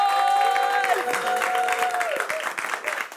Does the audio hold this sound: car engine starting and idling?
no